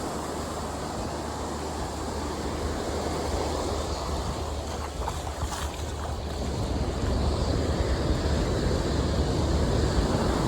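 Ocean waves wash continuously onto an Outer Banks beach under steady wind noise, with the surf growing fuller and louder toward the end.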